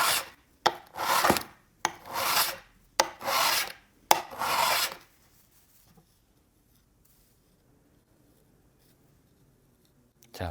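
Several rhythmic rasping strokes of a file pushed and pulled along a card scraper edge to raise a burr, close and distinct, then the workshop falls nearly silent with a faint stroke at the end.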